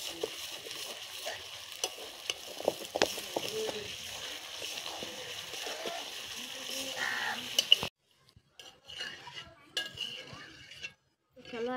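Food frying in a pan during home cooking, with steady sizzling and intermittent clinks of utensils and stirring for about eight seconds, then quieter scattered kitchen handling sounds.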